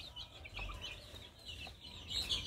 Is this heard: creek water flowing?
no